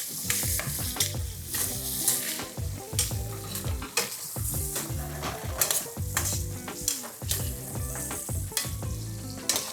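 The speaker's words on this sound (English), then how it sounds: "You can really hear that bacon popping." Bacon fries in a pan for rigatoni with crispy bacon, a dense continuous sizzle studded with sharp pops and stirring scrapes, close and steady throughout with no voices.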